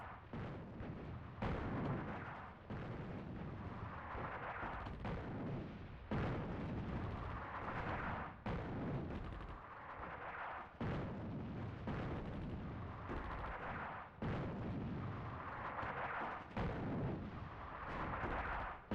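Heavy artillery fire in the World War II North Africa strategy game Attack at Dawn: North Africa, a series of deep booming blasts roughly every two seconds, each rumbling and rolling off, loud and continuous.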